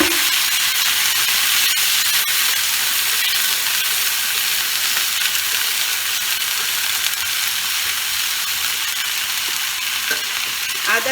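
Sustained loud hissing sizzle as water hits a ginger-garlic tempering frying in a pan for a beans and potato curry, steady throughout with occasional faint clicks of stirring.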